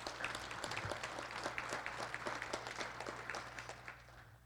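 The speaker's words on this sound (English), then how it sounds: "So let's give them a round of applause" College audience at a State of the College address giving a round of applause: many hands clapping in a dense, continuous patter, moderately distant and fairly quiet, with a low hum underneath and tapering near the end.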